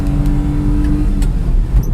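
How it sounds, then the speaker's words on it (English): A Daihatsu 4x4 Japanese mini truck climbs a hill in 4th gear, its small engine droning steadily and close with a held, laboring note and no talk over it. "So now I'm in 4th gear, and I am holding and climbing."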